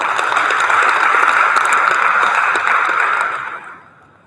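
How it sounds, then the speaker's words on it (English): A conference audience at a chemistry and materials science event gives sustained applause, a dense, even wash of many hands lasting a few seconds and then tapering off quickly at the end. "Please give a big applause."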